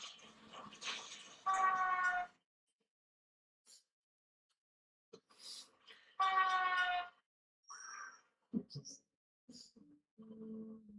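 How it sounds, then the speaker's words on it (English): In the L.A. Noire video game, a high, thin mewling cry like a kitten's sounds in short bursts, separated by silence and mixed with scattered game noises and voices. "Sounds like a baby cat."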